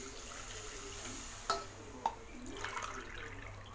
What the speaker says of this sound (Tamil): இப்போ இதுக்கு சேமியாவுக்கு தேவையான அளவு தண்ணி ஊற்றிக்கலாம். 2 கப் தண்ணி ஊற்றலாம்.